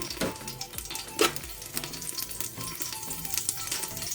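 Vegetables for a vegetable couscous fry in a little vegetable oil, giving a steady close sizzle with occasional stirring scrapes and a few sharper crackles.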